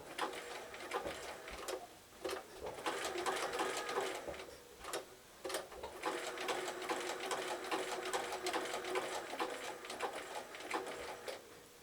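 A domestic sewing machine zig-zag stitching an appliqué shape onto birthday bunting, running in steady rapid bursts with brief pauses as the work is turned at a corner, close and continuous.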